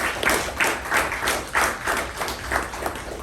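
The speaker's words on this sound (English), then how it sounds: "Let's give him a good round of applause." A meeting audience claps in a loose, uneven burst for about three seconds, with separate hand claps standing out clearly from the general patter.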